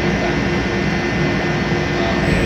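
A ship's engine runs steadily as the vessel comes alongside for cargo loading, a loud, continuous low droning rumble with a constant hum and no pauses or variation.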